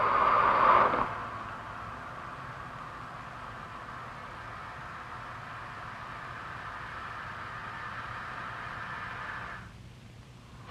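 Steady broadband hiss of compressible gas flowing through a channel, valve and piping, picked up at the channel entrance; continuous and fairly even with a louder burst at the start, dropping away near the end.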